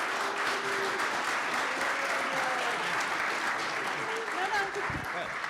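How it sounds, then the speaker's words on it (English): Applause for graduates at a college of engineering spring celebration, continuous crowd clapping throughout with scattered voices and cheers rising over it. "So round of applause for our graduates."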